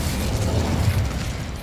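Fire erupts in a short, dense whoosh with crackling pops as an Incendio spell is cast in Hogwarts Legacy, loud and close without speech.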